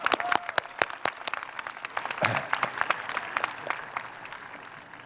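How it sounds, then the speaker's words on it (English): Applause at a university commencement ceremony, a steady wash of many hands clapping with sharp individual claps standing out, fairly loud and continuous, gradually thinning toward the end. "Let's give them all a warm round of applause."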